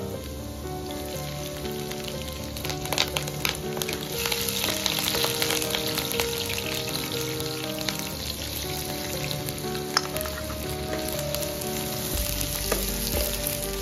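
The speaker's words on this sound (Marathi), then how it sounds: "लसूण व्यवस्थित फ्राय करून झालं की यामध्ये मिरची व कांदा घालून घेते।" Crushed garlic cloves, green chilies and onion fry in hot oil, a steady close sizzle with scattered crackles and pops running throughout with no talking.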